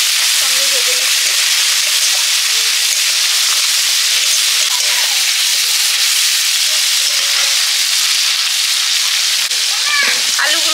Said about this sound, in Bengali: তেলে দিলাম কালো জিরে, শুকনো লঙ্কা, হলুদ, চিংড়ি মাছ একসঙ্গে ভেজে নিচ্ছি।